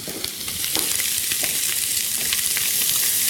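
Squid sautéing with olive oil and garlic on maximum heat gives a loud, steady sizzle, broad and hissing, with scattered crackles and stirring clicks throughout and no voices.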